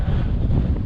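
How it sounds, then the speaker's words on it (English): A northerly breeze buffets the microphone beside an estuary in west Clare, a loud, low, rumbling wind roar that fills the whole short moment with gusty flutter. "won't be clear of this northerly breeze"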